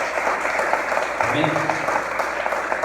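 A church congregation claps throughout a communion service and deacon ordination, a short, steady round of applause heard under a voice speaking over it.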